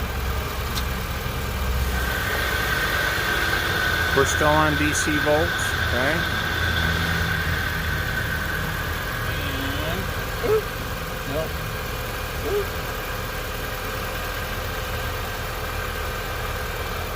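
A car engine idles steadily with the hood up, a low constant hum running beneath a voice and a few faint electronic beeps.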